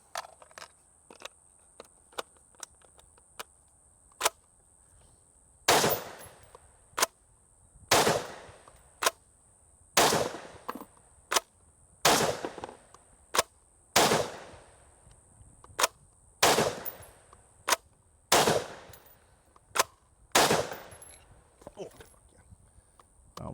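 Rifle fired in repeated bursts during a 2000-round endurance test, sharp cracks coming in quick strings with short pauses between groups, loud and close, with some quieter single shots early on.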